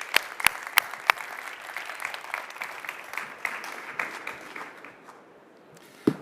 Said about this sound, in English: So please a warm welcome and applause for Christian.